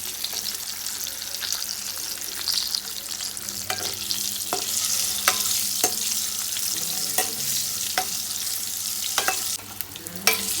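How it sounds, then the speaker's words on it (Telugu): Boiled eggs fry in oil with chilli powder in a pan, giving a steady close sizzle with regular scraping stirs and clinks of a spatula throughout, with no voices. "కొంచెం ఇలా బాగా ఫ్రై అయ్యాక ఎగ్స్ తీసి పక్కన పెట్టుకోండి"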